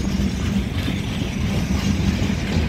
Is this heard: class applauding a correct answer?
no